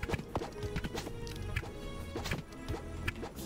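Horse hooves clip-clop in the Super Fantasy Kingdom video game, an irregular series of knocking hoofbeats mixed with other game clatter, fairly busy and close.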